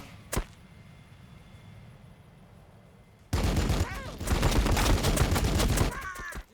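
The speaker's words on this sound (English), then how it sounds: "Tank shooting at the Gretchen around the corner of the pillar" Tank cannon fire in Warhammer 40,000, a Blood Angels tank shooting at Ork Gretchen behind a pillar: one sharp crack early, then a sudden loud stretch of dense battle noise with booms and rattling shots, close and heavy.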